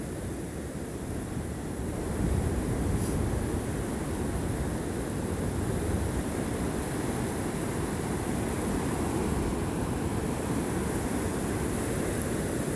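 Gentle surf washes continuously along a beach on a calm, windless, foggy morning, a soft, steady roar of waves with no voices.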